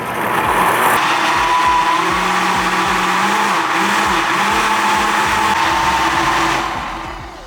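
A kitchen blender purees curry-spiced carrot with milk, whirring loudly and steadily. Its pitch wobbles as the mix churns, and the motor winds down near the end.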